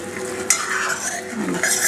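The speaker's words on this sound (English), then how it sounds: "Here the syrup is boiling." Sugar syrup for cashew barfi bubbles in a pan on the stove, a steady close simmering fizz with brief clinks of a stirring spoon against the pan.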